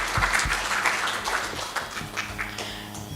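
An audience gives a round of hand claps at a national education programme event, a brisk scattered patter of many hands with some louder individual claps up close, tapering slightly toward the end.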